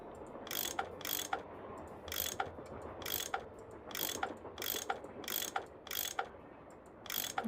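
A tool turns pipe bolts in a video game: a rhythmic series of about eight ratcheting clicks in evenly spaced bursts, close and clear, with no talk.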